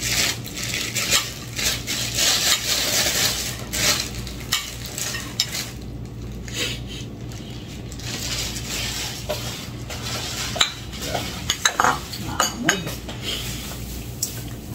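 Fried tofu being stirred in a pan, a spatula scraping and clinking against the metal over a steady frying sizzle, with occasional sharper clatters and faint voices in the background.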